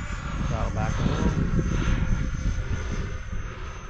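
A Banana Hobby B1 bomber RC model plane flies at full speed after taking off from grass, its steady motor whine droning continuously under people talking.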